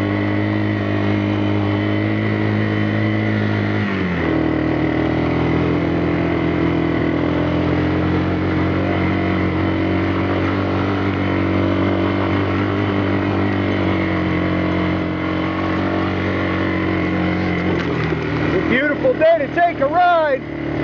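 A four-wheeler ATV engine runs steadily and loud at a near-constant idle-to-cruise pitch while riding, shifting slightly early on, with a rising rev and warbling pitch changes near the end.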